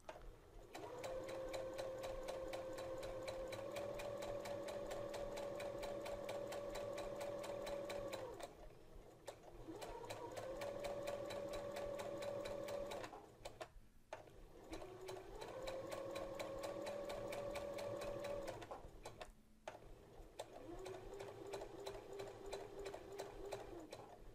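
A sewing machine stitches a hem with a narrow hemmer foot in four long runs of steady rapid whirring, with brief stops between them, quiet and close, and no talking.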